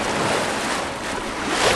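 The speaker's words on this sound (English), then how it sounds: "Waves are hitting us on the beam" Rough, unruly swell in the Sea of Cortez slaps against the beam of a rolling sailboat, a continuous close wash of water and surf mixed with steady wind rush, swelling slightly louder toward the end.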